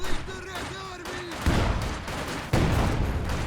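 Artillery barrage in Company of Heroes 2, a World War II strategy game battle: a few heavy explosive booms land over steady combat noise, with crackling gunfire mixed in and a rising whistle early on.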